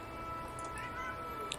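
A single faint cat meow from the online role-playing game Shroud of the Avatar rises briefly over a dense, steady background of game ambience.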